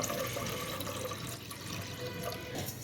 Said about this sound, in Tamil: இது கூட நம்ம வீட்டில் காய்ச்சி வச்சுருப்போம் பார்த்திங்களா பால், அது வந்து ஒரு அரை டம்ளர் சேர்த்துக்கலாம்.